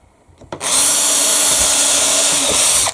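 A power drill bores screw holes for a long-throw gate lock: after a brief quiet start and a click, the motor whines in at full, loud and close, holding a steady high-pitched drone through the rest.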